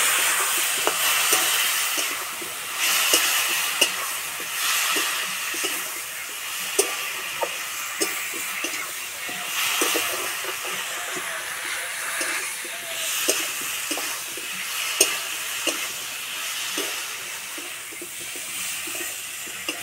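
Cumin, chilli and turmeric powders fry with a little sugar and a splash of water in a pan for an egg and masoor dal dish, giving a continuous close hiss and sizzle with scattered small pops and crackles.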